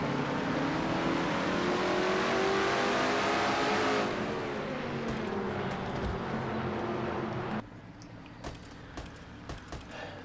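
Racing engine from a NASCAR-style racing video game heard from the in-car view, a loud sustained roar that holds steady, then drops in level near the end with faint ticks.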